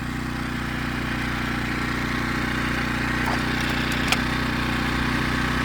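Predator generator engine running steadily nearby, a constant mid-pitched hum and drone with no breaks and no talk.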